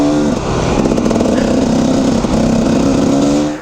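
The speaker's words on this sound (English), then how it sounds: "That Beta engine, at higher RPMs, it does get vibey." A Beta motorcycle engine runs at higher RPM on a ride near Frazier Park, a loud continuous buzzing drone with slight pitch shifts, close up.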